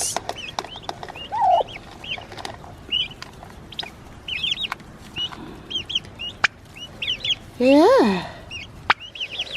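A backyard flock of chickens clucking in the morning, scattered short clucks and calls near and far, with one louder squawk, and a person briefly speaking nearby.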